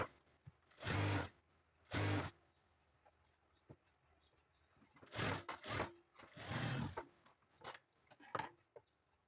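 A sewing machine stitches along the edge of a blouse lining, running in several short bursts of varied length separated by pauses, fairly close and alone with no talk.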